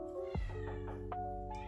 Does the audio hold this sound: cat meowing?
yes